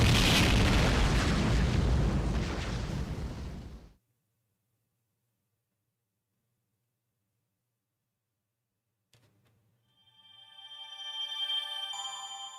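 Missile explosions in the video game Fate/Grand Order, heard as a loud, dense roaring blast lasting several seconds that cuts off abruptly into silence, followed later by bright, ringing game effects.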